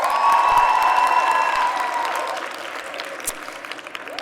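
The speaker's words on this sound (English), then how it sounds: "Please give a warm round of applause to the Chief Marketing Officer at TimeBag, Ms. Linda Appy." Audience at a youth expo applauds a speaker being introduced on stage, a loud burst of clapping that swells at first and then gradually thins and fades over a few seconds.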